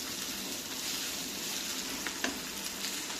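Onions and green chillies frying in hot oil for a Telangana-style dry fish curry, a dense continuous hiss and crackle that stays even throughout, close by, with a few brief pops near the end and no talking.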